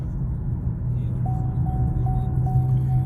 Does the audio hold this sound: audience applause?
no